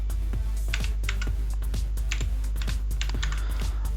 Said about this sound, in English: So let me just type it that correctly.